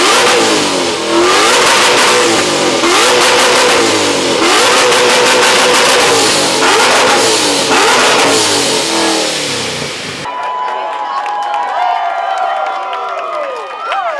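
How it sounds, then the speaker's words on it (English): A Mustang engine revs hard against its rev limiter, loud, close and sustained for about ten seconds with stuttering bursts, then cuts off to a lingering ring and faint crowd noise. "I'm happy to fire the car up and stand on the rev limiter a little bit if you guys want to hear some revs"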